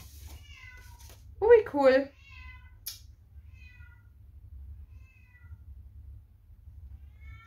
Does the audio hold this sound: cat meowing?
yes